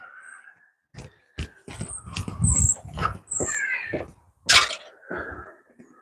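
A dog close by, giving a run of short yips, whines and snuffling noises that come in irregular bursts with brief pauses between them.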